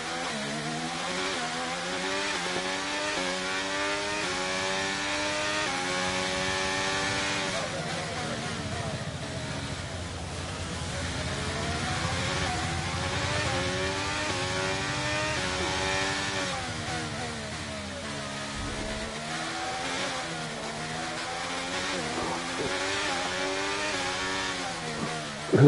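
A Formula 1 race car engine in the F1 2023 video game roars loudly and steadily through the clip, its harmonic pitch sweeping down under braking and climbing again, with a continuous dense tone from start to end.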